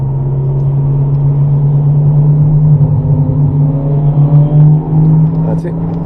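A Ferrari California accelerates on the Rockingham circuit during a supercar drive day, its engine a steady loud low drone that swells slightly midway, with an instructor's voice talking over it.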